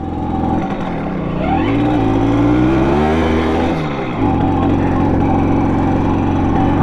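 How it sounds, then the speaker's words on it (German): A Simson moped engine, newly finished and on its first start attempt, still poorly tuned and struggling to gain revs, revs loudly up and down at close range in a continuous buzzing drone. "Man kommt hier nicht auf Drehzahl."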